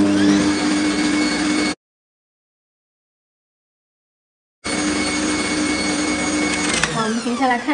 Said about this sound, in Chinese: 那你的打蛋器或者厨师机都是处于一个高速打发的状态